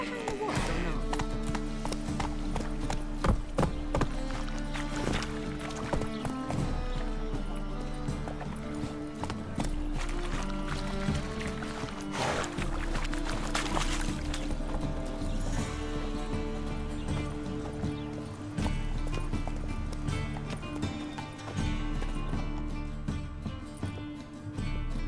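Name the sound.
horse hooves galloping in The Witcher 3 video game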